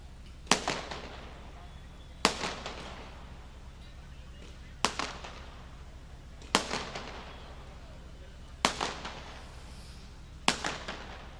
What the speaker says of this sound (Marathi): कलरफुल फटाके पण चांगल्या आवाजात फुटतात